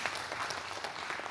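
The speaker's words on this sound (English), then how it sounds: "Big round of applause to all of them." An audience applauds the youth industry panel, a brief, fairly faint patch of continuous clapping heard from a distance with no voices over it.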